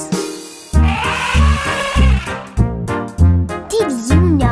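A kids' song's cartoon elephant trumpets through its trunk, a loud, wavering brassy call over a bouncy musical backing with a steady beat.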